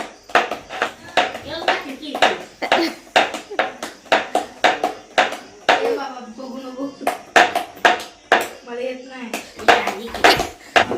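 Rhythmic slaps of bhakri dough being patted flat by hand, a steady run of sharp, close taps that continue under ongoing family conversation and a voice.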